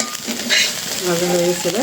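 Food frying in mustard oil sizzles steadily under scraping stirs and a short clatter of a utensil, close and fairly loud.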